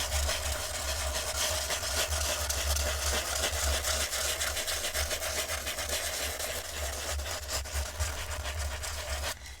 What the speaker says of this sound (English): So just by sanding, we're able to take that little layer of color off